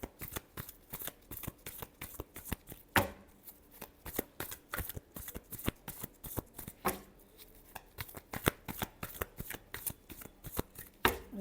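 Tarot cards are shuffled by hand in a steady stream of crisp riffling slaps and flicks, close and fairly quiet, with no voice over them.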